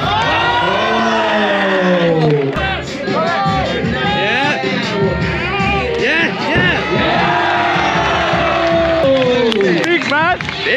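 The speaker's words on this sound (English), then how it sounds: "Big round of applause" A loud crowd cheers, shouts and claps at a parkour event after an athlete's big dive, with excited voices calling out over the noise for the full stretch.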